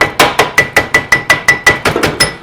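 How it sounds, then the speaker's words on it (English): About a dozen sharp metallic hammer strikes flattening over-tightened screw holes in metal, in a steady, even rhythm, close and loud, each blow ringing briefly. "Just have to take a second and hammer these screw holes back"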